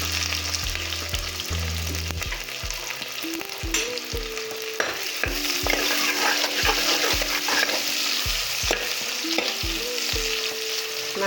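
Onion fries in hot oil with cinnamon, cloves and cardamom for a simple beef curry, making a close, continuous sizzle with stirring and some low rhythmic thumps underneath.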